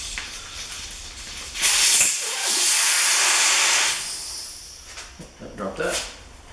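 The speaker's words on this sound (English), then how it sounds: "So that basically pulls all the air out of the tire." Air hisses out of a motorcycle tire whose valve core has been pulled, a loud broadband rush that peaks and then tapers, with a short gap and some faint handling noises afterward.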